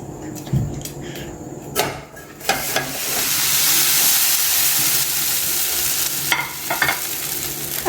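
Kunafa fries in a hot pan, giving a loud continuous sizzle and hiss with steam, broken by a few sharp clinks and scraping stirs, and no talking.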